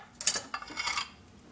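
A metal spoon clinks and rattles among dishes in a kitchen during juice making, a few close, bright clatters over about a second.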